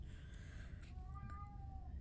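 A pet cat yowls loudly over a toy string, with a few drawn-out, wavering meows that sound fairly faint against a steady low background hum.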